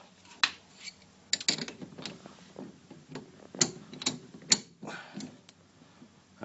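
A socket wrench ratchets against a wheel hub bolt during a hub assembly changeover on a 2004 Ford BA. Close, irregular mechanical clicks and clunks come in short bursts, with no talking.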